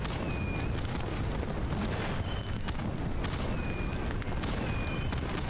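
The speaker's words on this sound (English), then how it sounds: "And the fireworks show gets even more amazing." Fireworks show in the My Time at Sandrock video game: a dense, continuous rumble of bursts, with several thin rising whistles of launching rockets cutting through at intervals.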